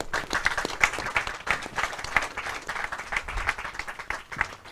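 Steady applause from a conference audience following a press-conference presentation, dense overlapping claps at moderate loudness throughout, with no talk.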